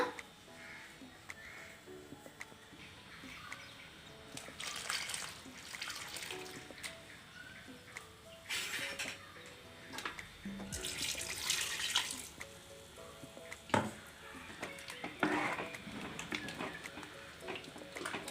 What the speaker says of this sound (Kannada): ಆಮೇಲೆ ಎಷ್ಟು ಬೇಕು ನೋಡಿ ಅಷ್ಟು ನೀರು ಹಾಕೋಣ